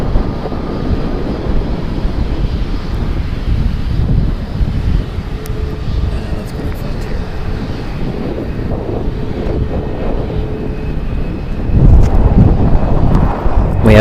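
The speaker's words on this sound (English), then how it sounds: "A little bit of wind here." Wind buffets the microphone at San Francisco International Airport, a loud, steady rumbling roar with gusty swells and a stronger surge near the end, and distant aircraft noise underneath.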